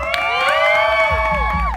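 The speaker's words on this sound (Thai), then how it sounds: "ถ้ามีเสียงกรี๊ดฉันจะขยับ" Shrill, sustained screams and cheers from an audience at a Thai comedy performance, several high voices overlapping loudly and close for the whole moment.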